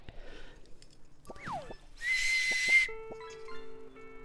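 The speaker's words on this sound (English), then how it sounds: "Marine whistle." A marine whistle is blown, one bright sustained burst after scattered knocks and a brief sliding squeak, then a few thin tones and clicks around it.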